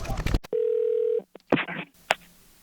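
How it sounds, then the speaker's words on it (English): Telephone dialing on a handset: a short key beep, then a long steady tone, followed by brief clicks and a handling noise, loud and close. "I'll call phone number 407-808"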